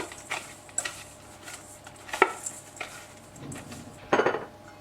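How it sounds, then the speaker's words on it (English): Brown sugar and butter are whisked in a bowl with scattered, uneven metallic clinks and scrapes against the sides, a few sharper knocks standing out, close and moderately loud with no talking. "now I'm slowly going to whisk this together to mix everything up really well."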